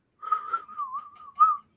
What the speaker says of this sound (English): The old Irish Spring commercials with the whistling. Yeah. That's why I whistled.